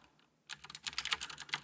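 Quick typing of a search query on a computer keyboard, a brisk run of close, crisp key taps that begins after a brief quiet moment and continues steadily with no talking.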